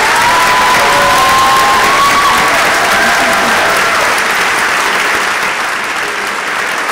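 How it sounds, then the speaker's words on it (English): Audience applause with some cheering and whistles after a university conversation event with students, a dense, loud, steady wash of clapping that fills the whole stretch, thinning slightly toward the end. "How about a bit of applause for the students and the questions?"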